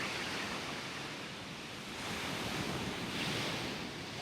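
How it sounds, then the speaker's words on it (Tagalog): Gentle, calm sea waves wash onto a white-sand beach at Dinadiawan, Dipaculao, Aurora, a steady soft surf hiss with slow swells, heard up close with no one talking. "Hindi ganun kalakas yung alon."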